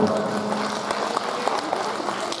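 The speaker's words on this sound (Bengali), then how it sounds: "অত্যন্ত গর্বে একবার জোরে হাততালি হয়ে যাক ঝাড়খণ্ড উচ্চ বিদ্যালয়ের জন্য" A school audience applauding for Jharkhand High School at a ceremony, dense sustained clapping from a crowd, moderately loud and continuous throughout.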